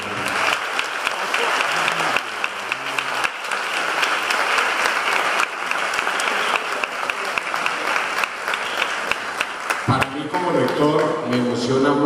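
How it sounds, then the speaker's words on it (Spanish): Sustained, loud applause from an audience at a cultural festival of image and word, honoring a poet, with dense clapping throughout and a voice starting to speak over the crowd near the end. "Así es que este abrazo y este aplauso es para usted."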